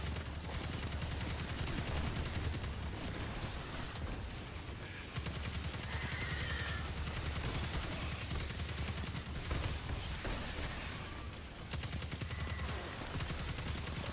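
Sustained rapid auto rifle fire in Destiny 2, a continuous crackling stream of shots at low to moderate level with brief lulls between bursts.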